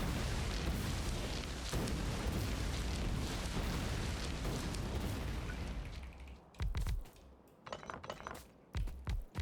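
Grenades exploding in Factorio produce a dense, continuous rumble of overlapping blasts, then give way to a few separate sharp bursts with gaps between them.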